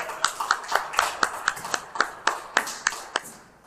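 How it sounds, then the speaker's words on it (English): Applause at a comedy open-mic night comes as a few sharp, evenly spaced claps in a steady rhythm, close and fairly quiet, tapering off at the end. "A round of applause."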